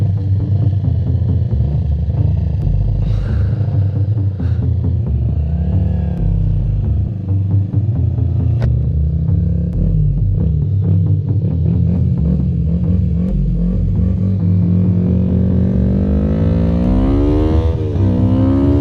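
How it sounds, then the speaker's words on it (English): A Kawasaki Ninja 250 motorcycle engine rumbles close by, idling and revving with a rising pitch toward the end, loud and steady with no talk. "Ninja 250! One of my favorite bikes."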